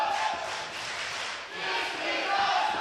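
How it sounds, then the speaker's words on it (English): Wrestling crowd in Hickory, North Carolina cheering loudly, a dense roar of shouts and yells that dips briefly midway before surging back, continuous and close. "You hear the Hickory crowd voicing their approval."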